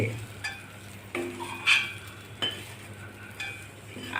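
Moong and okra sautéing in oil in a kadhai, soft sizzling under repeated scraping stirs of a spatula against the pan, several distinct strokes in an irregular rhythm, with no talk.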